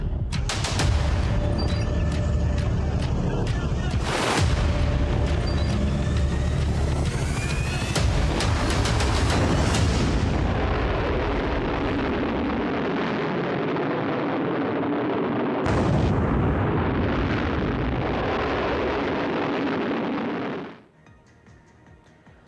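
Missile strikes in the Israel–Iran conflict: loud, continuous blast and roaring rumble with sharp booming impacts, sustained dense explosive noise that cuts off abruptly near the end, leaving near-silence.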